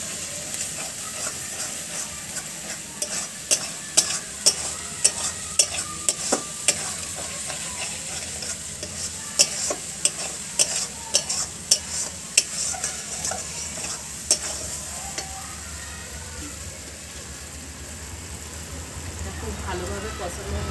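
Bhetki fish masala with chopped coriander leaves stir-fries in a pan, a steady low sizzle broken by repeated sharp scraping knocks of a spatula, with a voice talking over it.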